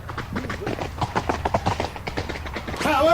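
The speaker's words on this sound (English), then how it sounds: "The gentleman jumped on his horse and galloped away in the opposite direction." Galloping horse hoofbeats in a quick, uneven rhythm, close and fairly loud, with a brief whinny-like sound near the end.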